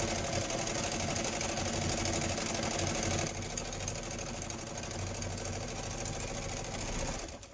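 Close sewing machine hum runs steadily as a fabric envelope is stitched, a continuous buzzing drone that drops slightly in level partway through and keeps going without pause.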